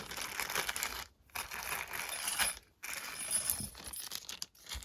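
Plastic packaging holding guitar screws for a Duesenberg Les Trem II upgrade on an Epiphone Firebird is opened one-handed, giving continuous close crinkling and rustling with two brief pauses.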